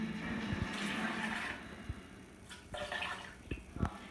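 Water pours into a container while Kool-Aid ices are made, a splashing rush followed by shorter trickles, clinks and knocks nearby, with no voices.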